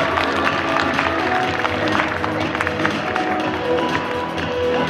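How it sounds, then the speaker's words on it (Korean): Applause from the crowd at the opening of a Paju Citizen FC home football match, steady dense clapping throughout with a busy stadium ambience underneath. "계속해서 박수를 부탁드리겠습니다"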